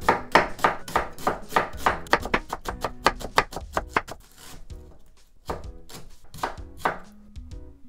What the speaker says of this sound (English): I'm gonna make small slits. Without cutting the whole way like this, then I'm gonna make small slices.